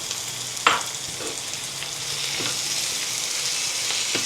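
Tomatoes drop into a hot pan with a sharp splash, then settle into a steady, close, loud sizzle and frying hiss that carries on evenly.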